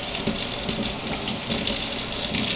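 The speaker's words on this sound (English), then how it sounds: "Turn the water on." Tap water runs steadily into a sink, a close, even hiss and splash that continues without break and with no talking.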